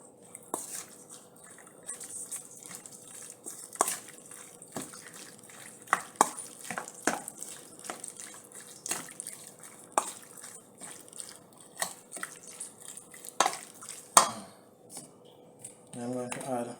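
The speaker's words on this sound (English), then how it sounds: "So I'm adding 1 tablespoon cornstarch. That will help to tenderize it. So we're going to stir this in." Cornstarch stirred into raw chicken pieces in a bowl, a quiet series of soft wet scrapes and clicks from the spoon at an irregular pace, close but faint.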